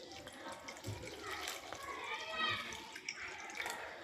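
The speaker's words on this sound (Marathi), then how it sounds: "तर मी याच्यात पाणी टाकते बरं का" Water being poured into a cooking pot of stuffed bitter gourd set to boil, a steady splashing pour close by with a voice faintly in the background.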